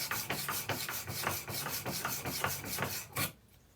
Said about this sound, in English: when you stop hearing that grind, then you should be there